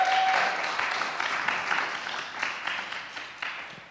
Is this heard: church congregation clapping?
yes